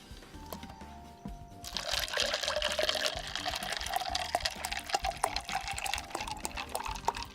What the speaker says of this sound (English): Oh, I need to pour slower. It's starting to splash everywhere.